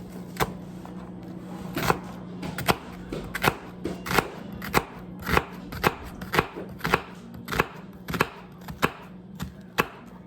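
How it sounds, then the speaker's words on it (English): A knife chops through an onion on a cutting board in a home kitchen while lasagna is being prepared, giving about twenty sharp, close knocks in a steady, slightly uneven rhythm with no talking. "I'm gonna cut a little bit more"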